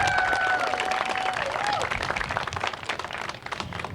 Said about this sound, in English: Can we please have a round of applause for our students?